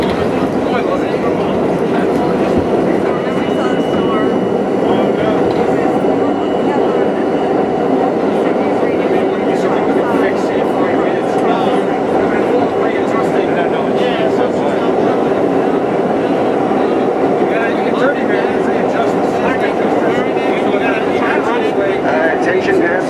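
An R32 New York subway train riding on its farewell trip, with a steady loud rumble, rattling wheels and intermittent clicks throughout, and a faint voice or announcement in the background.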